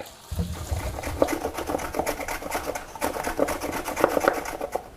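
Cassava being grated into strands on a slicer grater, a steady rasping scrape with repeated rhythmic strokes, fairly close and continuous, no voices.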